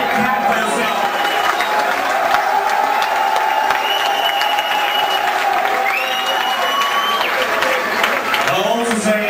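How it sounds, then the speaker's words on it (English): A concert crowd at a metal band's live show in Thessaloniki applauds and cheers loudly and continuously, with whistles and shouts rising over dense clapping, close and full throughout. "Big clap for yourself."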